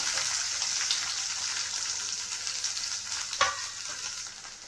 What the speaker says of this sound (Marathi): तेल गरम झालेलं आहे आपलं आता आपण जे कांदे आपण घेतले होते तीन ते चार तर ते आपण कापून छान बारीक बारीक केलेले आहे तर ते ॲड करते